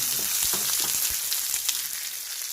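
Cod frying in a pan while being cooked for a gochujang-glazed dish, giving a steady close sizzle with scattered small pops and crackles, no voices over it.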